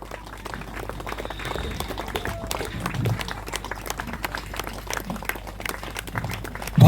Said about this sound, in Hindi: हम ताली बजाते रहेंगे।